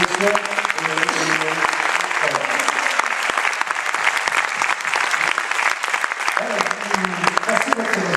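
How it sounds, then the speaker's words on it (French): An audience claps throughout, a dense, loud and sustained burst of many hands at an indoor gathering, with voices faintly mixed in. "Peut-être que nous, nous applaudissons."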